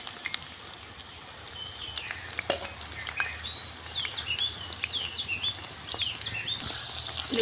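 Marinated chicken pieces for chilli chicken sizzle and spit in a hot pan, with a crackling, popping patter that grows busier toward the end and no voices.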